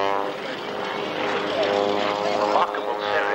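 Pitts aerobatic biplane, a very small aeroplane, performing tumbling maneuvers at an airshow at Wroughton Airfield, with a steady propeller engine drone whose pitch rises and falls, heard under a commentator's voice.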